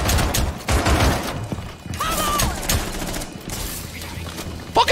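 Rapid bursts of gunfire from the video game Rainbow Six Siege crackle close and loud across the short stretch, with a faint voice underneath.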